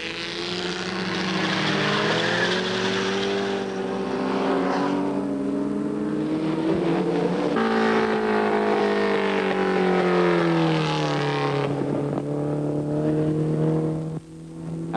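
Small Mini race cars at the 1965 Sandown Six Hour Race roaring past on track, a loud sustained engine drone whose pitch rises and falls as cars pass and change gear, with a brief dip near the end.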